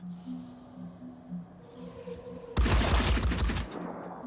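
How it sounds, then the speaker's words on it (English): Burst of rapid gunfire from the Phoenix Point tactical game, loud and dense for about a second after a quieter stretch of low droning tones. "You're shooting the decoy."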